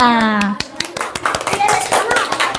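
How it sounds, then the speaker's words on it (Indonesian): Children in a classroom clap in quick, rhythmic bursts, close and lively, with a voice and children's chatter mixed in among the hand claps. "bagi tepuk tangan untuk kita semua"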